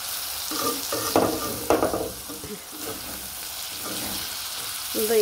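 Bengali chorchori vegetable curry is stirred and fried in a pan over a low flame. A continuous close sizzle runs under irregular scraping and clanking strokes from the spatula against the pan.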